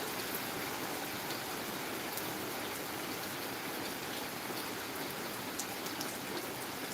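Rain falling after a long dry spell, a constant even wash of fine drops and hiss, fairly soft and unbroken for the whole stretch, with no voices.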